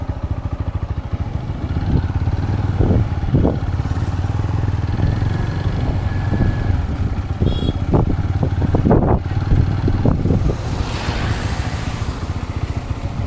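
A motorcycle engine rumbles steadily up close, with rattles and clatter from the ride and passing traffic noise, on a road trip in the Konkan region near Ganpatipule.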